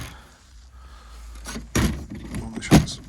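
A split stable-style door on a 2000 Hobby 540 UL caravan opens with a muffled clunk and latch rattle, then a second sharper knock, close by over quiet room tone.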